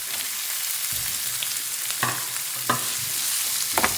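Onion, shallots and curry leaves sauté in hot coconut oil, giving a steady close sizzle broken by a few sharp scrapes of stirring, with no voices.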